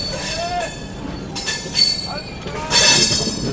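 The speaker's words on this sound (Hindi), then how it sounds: "अभी आप लोगों को क्रॉसिंग दिखाते हैं संगमित्रा सुपरफास्ट एक्सप्रेस के साथ जो कि आ ही रही है" Passing Sanghamitra Superfast Express at a crossing on an Indian Railways line toward Bhopal Junction, heard as steady rolling train rumble with rising wheel squeal and rail noise, swelling louder near the end.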